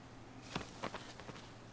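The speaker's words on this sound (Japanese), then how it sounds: "今トカゲの足音が聞こえた" A lizard's footsteps in the video game Shadow of the Colossus: three or four quick, soft pattering steps, faint and brief, over a quiet background hum.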